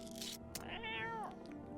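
A cat meows in the video game No, I'm Not a Human: one drawn-out, rising-then-falling meow, close and clear over a steady low game-music bed.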